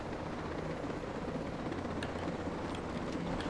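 A helicopter in the video game Ghost Recon Breakpoint gives a steady, dense rotor and engine roar that fills the whole stretch at constant loudness, heard alone without talk.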